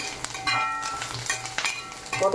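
Lentils and curry leaves roasting and being stirred in a pan, giving a steady close sizzle with scraping stir strokes over a couple of seconds.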